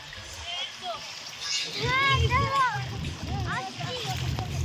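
A child splashes while swimming in a pool, with choppy bursts of water churning close by and adults and someone talking over and between the splashes.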